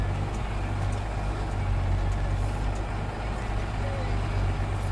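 A Peterbilt 536 mechanics truck with a short wheelbase drives in tight circles, its diesel engine rumbling steadily and close with low, continuous road noise and faint hiss, with people talking over it.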